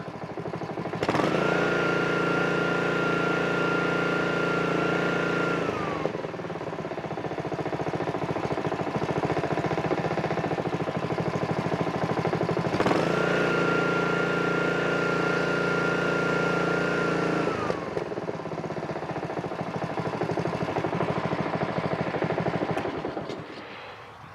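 A small lawn mower engine runs after a carburetor cleaning that followed winter storage. It holds a steady, close, buzzing drone for about twenty seconds, with two brief surges in pitch along the way.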